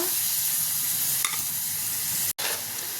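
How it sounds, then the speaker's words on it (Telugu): Two cut tomatoes frying in hot oil give a loud, even sizzle close by, with a couple of brief stirring clinks and one short break in the sound. "నూనెలో 2 టమాటాలు కట్ చేసుకొని వేసుకుందాం"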